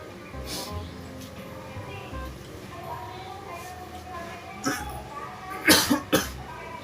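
A few coughs near the end, loud and close, after a stretch of quiet background with some soft talking.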